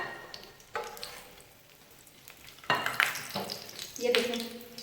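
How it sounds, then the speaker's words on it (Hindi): Chicken and potato kebabs sizzling in oil as they finish frying, a crackling hiss with utensil scrapes and clatter as pieces are lifted out, a voice talking at moments. "कबाब हमारे फ्राई हो चुके हैं। अब हम इनको एक एक करके निकालते हैं।"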